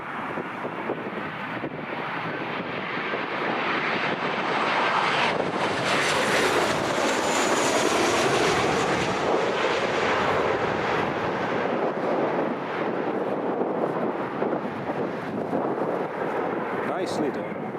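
A Ryanair airliner lands on runway 07 at Newcastle International Airport in a strong headwind, a broad roaring wash of engine and wind noise swelling and holding for many seconds under heavy microphone buffeting.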